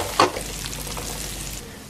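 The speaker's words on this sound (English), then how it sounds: "Cumin seeds are going in. Easy just to kind of fry them till they start sizzling." Cumin seeds sizzle and crackle in hot oil on a home stovetop, a brief louder stir-in burst at the start settling into a steady soft frying hiss.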